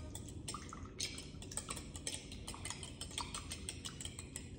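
Eggs seasoned with salt and pepper whisked in a bowl for scrambled eggs, a quick run of light clinking taps and sloshing, close and fairly quiet, with no talking.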